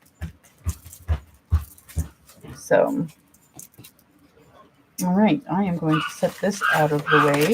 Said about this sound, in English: Daddy's letting the dogs out. You can hear some barking.